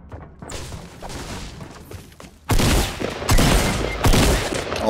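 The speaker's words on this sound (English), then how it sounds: "you shoot flat out of that many guns!" Rapid video game gunfire in Fortnite, a steady crackle of shots that turns into a louder, dense volley of bursts partway through.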